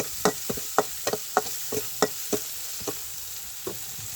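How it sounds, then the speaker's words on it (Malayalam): Turmeric masala for cauliflower masala is stirred in a frying pan: a dozen or so distinct scraping taps arrive in an uneven rhythm over a faint low sizzle, close and moderately loud, with no talking. "ആവശ്യത്തിനുള്ള മഞ്ഞൾപ്പൊടി നന്നായിട്ടൊന്ന് മസാലയുടെ മണം പച്ചമണം മാറി വരുന്നത് വരെ ഇളക്കി കൊടുക്കാം"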